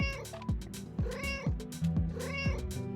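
Red sand cat from the State of Survival video game meowing repeatedly, a run of loud, close, drawn-out cries in a steady rhythm of about two per second, with no talk.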